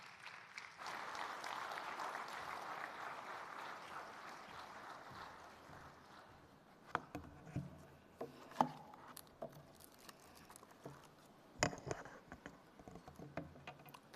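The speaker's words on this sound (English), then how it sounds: "Please, a round of applause." A conference audience applauds, the clapping starting as a broad, fairly faint wash and then thinning into scattered individual claps and knocks before a final burst.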